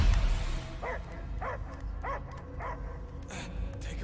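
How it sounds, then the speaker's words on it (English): Dog barking in Marvel's Guardians of the Galaxy video game: five evenly spaced, moderately loud barks over a low ambient game soundscape, with a brief voice at the start. "I hear only barking."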